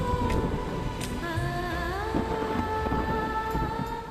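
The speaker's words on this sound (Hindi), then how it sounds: "बारिश हो रही है" Steady rain with rumbling thunder at night, loud and continuous throughout, with tonal background music layered over the downpour and no voices.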